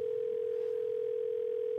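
A telephone dial tone sounds during a phone call, a single steady electronic hum held unbroken and fairly quiet for about two seconds, with no voices.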